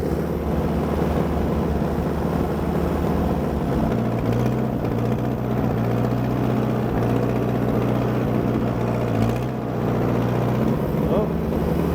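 An Allis Chalmers D14 tractor engine runs steadily and loud while clearing snow after a major storm, a continuous low drone with a deeper tone shift partway through as the load changes.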